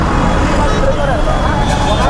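Dense road traffic on Hosur Road near Electronic City, Bangalore, during a jam, with a constant low rumble of idling engines and vehicles under nearby people talking.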